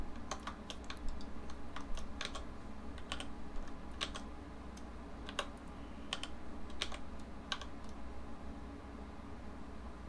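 Keys pressed on a computer keyboard, with sparse, distinct clicks spread irregularly over a steady low hiss and no voices.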